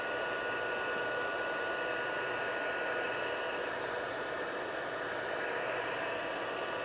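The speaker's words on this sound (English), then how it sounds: "The longer you have your heat tool heating up, the quicker it turns." A heat tool blows hot air steadily across a fun fold card, a constant broadband hiss that stays close and even for the whole stretch with no talking.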